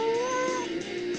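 Pet cats give a clear, drawn-out meow up close, a single rising-then-falling call with no talking over it.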